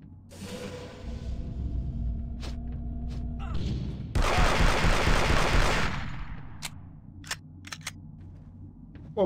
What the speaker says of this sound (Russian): Подождем, когда он стрельнет, и уже после его выстрела сами стреляем.